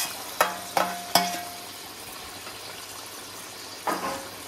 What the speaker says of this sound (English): I want the fish to simmer away.